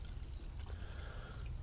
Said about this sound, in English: I can put some much needed antifreeze or coolant, depending on where you're from, back in my radiator.